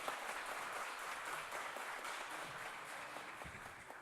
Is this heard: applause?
yes